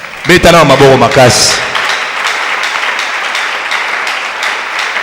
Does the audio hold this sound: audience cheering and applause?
yes